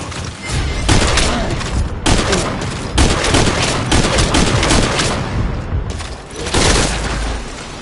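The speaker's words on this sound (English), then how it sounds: "We've got unidentified gunfire." Dense, sustained bursts of gunfire crackle and boom without pause in the PS4 game Metal Gear Solid Ground Zeroes, rapid automatic fire mixed with heavy thuds, loud and close throughout.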